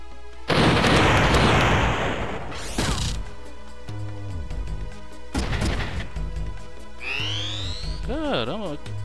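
Grenade explosion in the video game Front Mission 3 on PlayStation: a loud crashing blast followed by further booming impacts and synthetic game tones, with talking in places.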